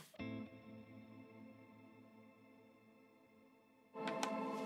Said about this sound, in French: Donc, je te fais écouter la reverb.